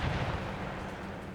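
Cannon fire in the Darthmod Total War mod during a Denmark campaign battle, a dense, loud rumbling boom that fills the whole short clip with no voices.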